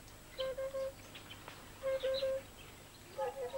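Yellow weaver birds calling at a freshwater source among the mangroves of the Bijagós archipelago: three short bursts of high, chattering chirps, fairly close. Faint outdoor background between the bursts, with no speech.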